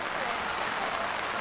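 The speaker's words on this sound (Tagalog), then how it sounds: "Ayan, lakas ng ulan dito." Heavy rain pours at Mount Samat, a dense, steady hiss that fills the air without pause.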